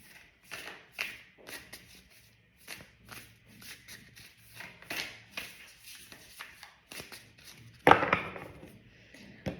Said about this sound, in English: I think I'll just shuffle slightly.